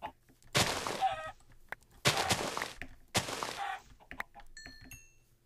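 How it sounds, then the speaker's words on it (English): Chickens in a survival video game give loud, harsh bursts of squawking and flapping, three sharp clusters in a row followed by faint chirps, with no talking. "Oh, I see some chickens over here."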